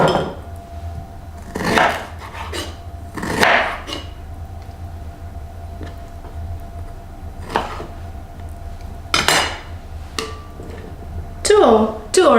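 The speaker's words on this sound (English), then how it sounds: "then you can just cut some slices" A knife slices through a garlic clove on a cutting board, giving several sharp, separate knocks spread across the clip against a quiet kitchen background with a low hum.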